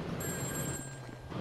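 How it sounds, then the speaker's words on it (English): Phone ringing inside the video game Grand Theft Auto V, a steady electronic ring tone with high sustained tones over game background noise, lasting about a second and a half at moderate level. "Phone's ringing."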